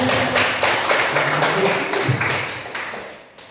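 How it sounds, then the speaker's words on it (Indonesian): Dense, steady clapping from a group fills the whole stretch, loud at first and tapering off slightly toward the end. "Terima kasih, tepuk tangan kepada"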